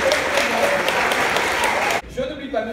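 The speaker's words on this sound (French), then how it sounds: "Je pense qu'on peut les applaudir." A seated audience applauds ambassadors at a special evening event for a performing company. The clapping is full and continuous for two seconds, then cuts off abruptly as a voice begins speaking.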